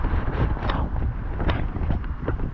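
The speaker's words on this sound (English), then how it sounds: "still a little windy today." Outdoors during a walk in Lewiston, Maine in late November, wind buffets the microphone as a low, rumbling roar that surges and fades over a couple of seconds, with no voices.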